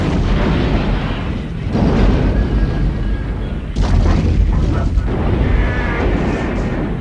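A building blows up in an animated film dub, heavy booming blasts and rumbling debris rolling loud over several seconds, with a second burst partway through.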